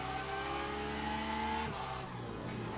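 Race car engines roar steadily in the Le Mans Ultimate racing game, with several cars running close together. The loud drone shifts in pitch partway through as the cars change speed, and no one talks over it.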